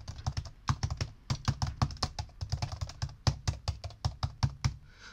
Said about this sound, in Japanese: キーボードを打つ時の音はこんな感じです